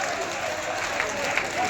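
Brief audience clapping at a live comic Urdu poetry recital in Malegaon, a steady patter of many hands with voices talking over it.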